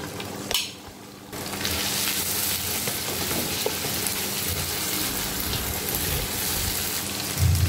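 Cumin, coriander and chili paste hits a hot pan for a Bengali chicken curry, erupting into a loud, steady sizzle and crackle after a brief quieter moment, continuing dense and close with no voices.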